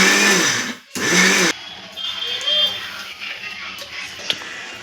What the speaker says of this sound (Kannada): ಒಂದೇ ಸರಿ ರುಬ್ಲಿಕ್ಕೆ ಹೋಗಬೇಡಿ, ಸ್ವಲ್ಪ ಆನ್ ಆಫ್ ಮಾಡ್ಕೊಂಡು ರುಬ್ಬಿ